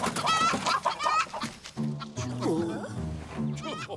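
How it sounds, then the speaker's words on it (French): Cartoon chicken clucking and squawking in short bursts in a Zorro animated series, loud and close, with a gruff voice speaking alongside. "Cochonnerie de poulet."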